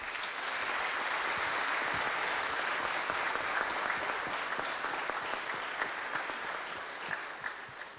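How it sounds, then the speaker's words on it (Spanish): Sustained applause from a large congregation in a Catholic church, steady and full, tapering off slightly toward the end. "Un fuerte aplauso para ellos."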